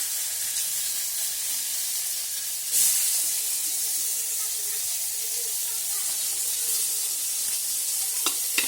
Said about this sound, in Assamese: পিয়াজ তেজপাত ভাজি আছে